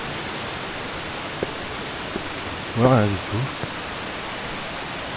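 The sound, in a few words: small waterfall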